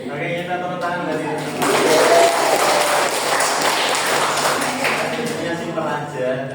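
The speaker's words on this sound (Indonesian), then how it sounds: "Oke, kita tepuk tangan dari" A classroom group claps together during a lesson on communication etiquette. Dense, steady clapping swells in after about a second and a half and continues to the end, with voices running underneath.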